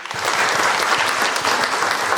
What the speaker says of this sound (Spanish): Un aplauso para este líder cívico.